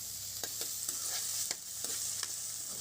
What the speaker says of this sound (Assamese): এইখিনি কাটি লোৱা আলুখিনি দিয়াৰ পাছত ধুনীয়াকৈ লৰাই দিছোঁ।